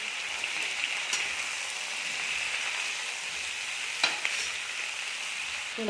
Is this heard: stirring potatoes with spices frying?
yes